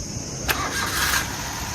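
A Maruti Alto K10 engine, just rebuilt after an overhaul, cranks and fires up with a sharp catch, then settles into a steady, close, fairly loud running drone.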